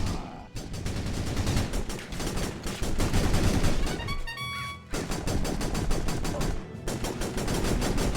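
Rapid automatic gunfire from the video game Battalion Wars, dense and loud, hammering almost continuously with a brief pause midway where a bright electronic chime rings before the firing resumes.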